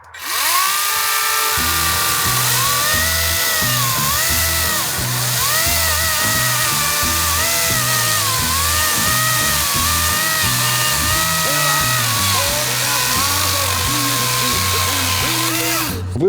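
A Crown CT2906HX cordless mini chainsaw cuts a dry log, its motor whining loud and close with the pitch rising and falling as it bites into the wood, continuous and without talk.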